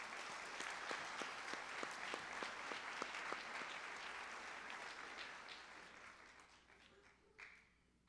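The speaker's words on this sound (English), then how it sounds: "So please at least give a round of applause." Audience applause rings out at a 1984 civic service awards ceremony, a steady wash of clapping with a few sharp claps standing out, tapering off over about seven seconds.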